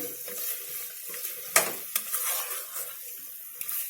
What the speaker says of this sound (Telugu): ఇంకా ఇదిగా వేగుతుంది, కానీ మాడ్చుకోవద్దు, ఊరికే కలుపుకోవాలి